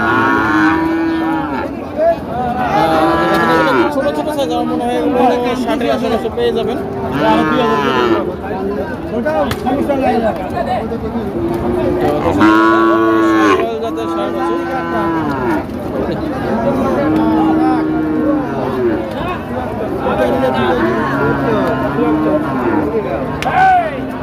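Sahiwal cattle at a livestock market in Joypurhat, repeated loud nearby moos and lows overlapping one another throughout, with people talking and crowd chatter underneath.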